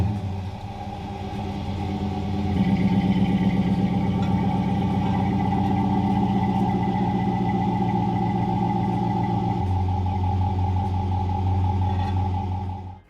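A car's exhaust, running without its Flowmaster Super 10 mufflers' tips installed, rumbles steadily with a low droning tone, holding a constant idle-like note that deepens partway through before easing off at the end.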